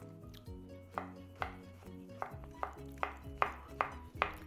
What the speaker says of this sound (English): We're gonna make some onions, some peppers, and some mushrooms. So let's get chopping and get started.